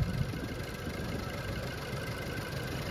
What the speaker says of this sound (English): that's the old 2-liter EcoBoost